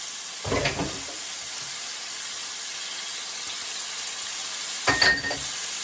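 Onion dropped into hot olive oil in a home kitchen pan for a kale and wild rice casserole, giving two brief bursts of sizzle and clatter about four seconds apart over a steady background hiss.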